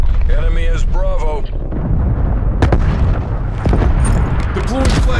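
Incoming artillery fire booms loudly and continuously in a Call of Duty Black Ops Cold War Domination match, with dense rumbling blasts and sharp cracks of gunfire, while a radio-style game voice calls out over the din.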